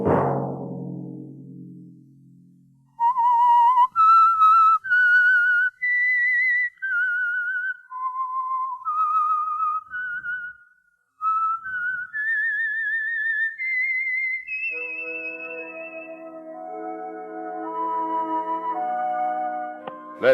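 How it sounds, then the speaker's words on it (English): Whistled theme signal of The Whistler, a Sunday-night mystery radio program sponsored by Signal Oil: a lone melodic whistle of rising and falling held notes, then an orchestral chord swells beneath it. "Let that whistle be your signal for the Signal Oil program, The Whistler, each Sunday night at this same time."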